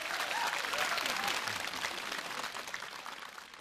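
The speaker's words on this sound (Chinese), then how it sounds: "掌声鼓励一下，来听听看" An audience at a Taiwanese TV variety show gives warm, steady applause to welcome a singer, a dense patter of clapping that holds for a few seconds and then slowly thins out.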